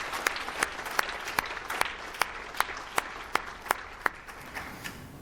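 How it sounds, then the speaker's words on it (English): A crowd applauds steadily, with a few sharp, distinct claps standing out over a dense wash of clapping that fades slightly at the end. "Let's give them all a round of applause."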